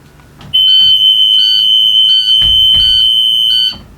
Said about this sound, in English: It opened and shut properly and I heard the alarm.